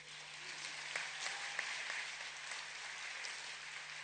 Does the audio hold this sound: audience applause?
yes